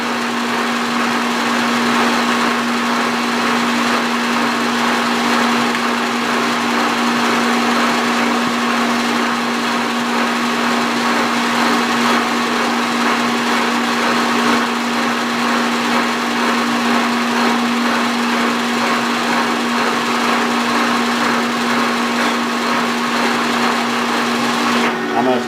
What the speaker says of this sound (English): I'm going to stop that vacuum